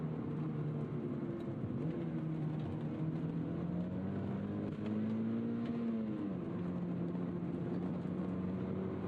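Mazda Miata NC engine under a hard acceleration pull, its revs climbing steadily, dipping briefly at a gear change and rising again in a continuous close drone with no talking.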